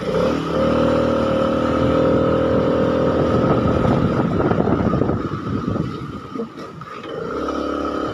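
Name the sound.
Vespa scooter engine at speed during night ride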